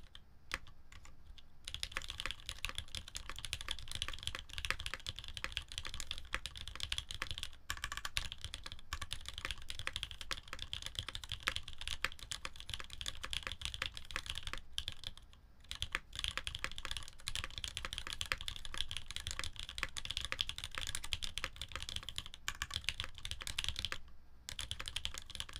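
An ai03 Polaris mechanical keyboard is typed on continuously for a long, fast run of dense, even keystrokes, close and prominent, with only a few brief pauses and no talking.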